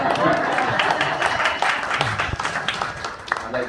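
Wedding guests clapping in a reception room, a short burst of mixed applause from a gathered crowd with some voices and chatter blended into the clapping.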